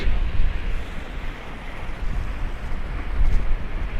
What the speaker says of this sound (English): get some slow-mo of the crashing waves on the rocks